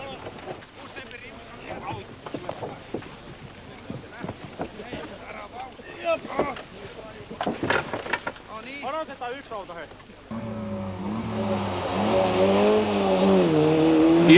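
Rally car on a Finnish rally stage at Somero in 1992, approaching with rising engine roar and passing close, loud and climbing in pitch at the end, following a stretch of talk.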